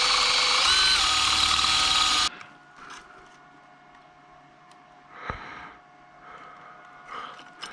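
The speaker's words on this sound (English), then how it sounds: "So to mount it, I'm gonna drill my holes and tap them." A loud power drill whines for about two seconds while drilling holes in a metal bracket, then stops, leaving quiet workshop background with a few faint clunks.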